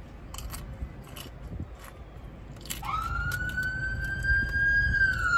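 On a San Diego street, midway through, a siren rises and holds a long, high wail at moderate distance, after a stretch of scattered clicks and crunching noises.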